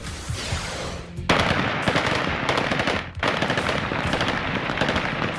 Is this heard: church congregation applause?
no